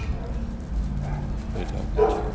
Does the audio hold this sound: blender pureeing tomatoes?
no